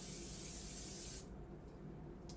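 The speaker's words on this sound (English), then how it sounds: "So I'm going to spray my pan" Cooking spray hisses onto a pan in one steady, close burst lasting about a second, then cuts off, leaving quiet room sound.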